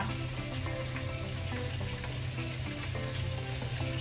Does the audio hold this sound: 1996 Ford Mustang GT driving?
no